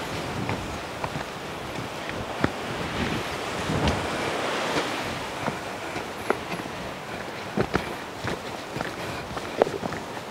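Steady wind blowing through a cloudy, misty forest of stunted trees on the Canary Islands, a broad continuous rush with occasional soft footsteps and small knocks scattered through it, no talking.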